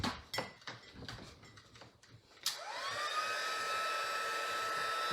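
A few knocks and clatters are followed by a heat gun switching on for crafting at a table, winding up into a steady, whining blow that runs on close by.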